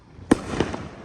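Fourth of July fireworks burst with a sharp, loud bang followed by a second fainter crack and crackling tail, heard outdoors at moderate distance.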